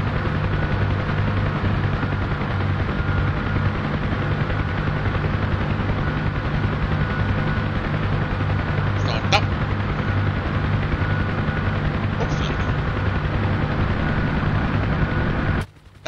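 UH-1H Huey helicopter in flight on a troop transport run, its rotor and turbine making a loud constant thumping drone that holds steady throughout before cutting off abruptly at the very end.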